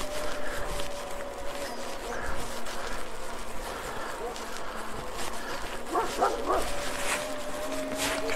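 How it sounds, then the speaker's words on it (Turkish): A dog barks and yips, fairly faint, at a passing electric bicycle fitted with a 500-watt Alba rear-hub motor kit. The barks come in brief bursts over steady riding and wind noise, and a person talks at times. "Köpek saldırısı."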